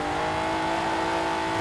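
A car engine, enlarged to 3.6 litres with twin Garrett T25 turbochargers, revs loudly in the racing game Forza Horizon 4, holding a steady, close, sustained drone throughout.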